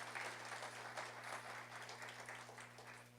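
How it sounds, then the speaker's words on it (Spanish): Church congregation applauding steadily throughout, a sustained even wash of clapping over a constant low electrical hum, fairly quiet and distant. "Denle un aplauso al Señor, por favor."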